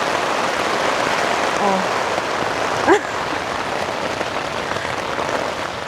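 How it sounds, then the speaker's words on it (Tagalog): Heavy rain pounding on a camping tent in Canada, a dense, loud, steady drumming hiss that runs unbroken throughout, with a brief exclamation from a voice partway through. "nandito kami ngayon sa tent dahil sobrang lakas ng ulan."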